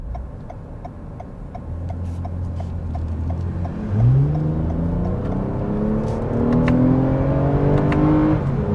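A 2021 Toyota Avalon TRD engine hums low in first gear, then revs up and climbs steadily in pitch as the car accelerates, with faint ticking in the background.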